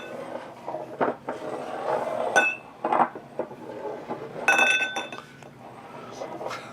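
Drinking glasses clink and tap against each other as they are shifted about on a table during a bourbon tasting, several bright chimes rising from a soft room background.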